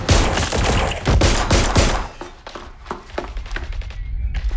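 Gunfire breaks out during a raid in Watch Dogs: Legion: dense, loud bursts of shots crowd the first two seconds, then thin out into scattered sharper cracks and thuds.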